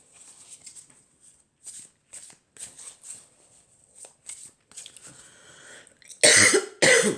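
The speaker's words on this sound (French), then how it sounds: "j'avais pas encore toussé, ça manquait" A woman coughs several times in short, scattered bursts that get louder toward the end, with cards softly shuffled in a quiet room.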